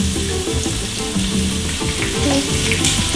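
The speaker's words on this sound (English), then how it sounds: "I'm going to put the onions" Onions sizzling and frying in a pan, a steady loud crackle with occasional stirring scrapes, close and continuous with no talk.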